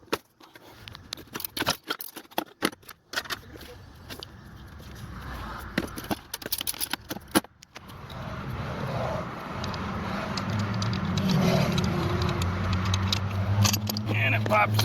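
A wrench clicks and clanks on the belt tensioner of a 2001 GMC Sierra 3500 with a 6.6L Duramax, in sharp, irregular metallic bursts. A steady broadband rumble follows, and someone talks over the work.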